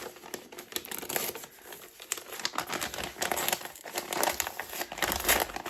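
Paper envelope with a heart-shaped closure on the back being opened, giving close, continuous crinkling and tearing of paper throughout, with no talking.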